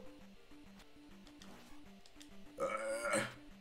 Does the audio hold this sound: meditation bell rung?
no